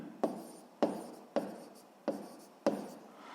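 Pen strokes on notebook paper during a physics lesson, five short scratchy writing bursts at a steady pace, close and clear in a quiet room with no talk.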